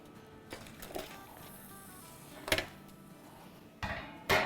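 Shawarma meat is tipped out onto a foil-lined tray, giving a few crinkly foil rustles and metallic clatters, including a louder scrape midway and a crackling burst at the end, with no voices.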